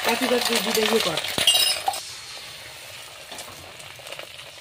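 An egg mixture for anda pav is poured into a hot wok, giving a loud burst of sizzling and frying with a brief clink, then fading to a quieter, steady crackle.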